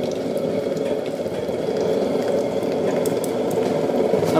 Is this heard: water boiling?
yes